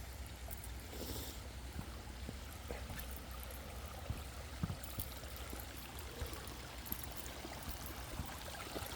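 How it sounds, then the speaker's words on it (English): A small creek flowing past rocks near a walkway to Red Sands Beach in Nelson, BC, a faint, steady trickle and babble of water with no voices over it. "So here we got a little creek creaking its way from behind that rock there."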